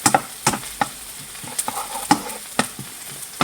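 An onion sweating over lowered heat in a pan gives a soft, continuous sizzle punctuated by regular spoon scrapes and taps as it is stirred, close and without talk.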